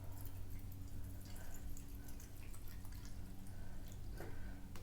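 Alcohol fuel poured into a small homemade backpacking alcohol stove, a steady faint trickle with light dripping and splashing, quiet and close, with no talking.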